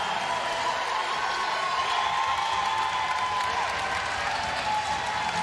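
A home crowd at a UConn at Providence college basketball game roars and cheers, with dense applause and shouting as a sustained wall of sound, and a faint commentator voice underneath.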